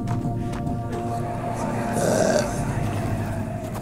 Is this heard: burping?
yes